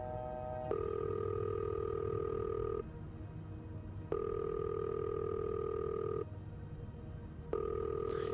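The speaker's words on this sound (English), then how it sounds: "Why isn't Beth answering the front desk? No answer." A telephone rings out to a hotel front desk in a horror video game: a steady electronic ringback tone sounds in three long bursts separated by short pauses, unanswered, with no voices.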